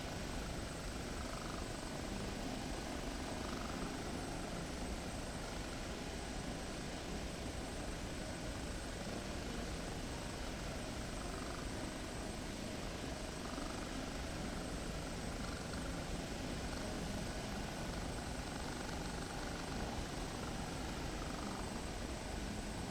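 The engine and rotor of an OH-58 Kiowa helicopter in a video game make a steady, unbroken whine and whooshing drone at moderate level, with no voices.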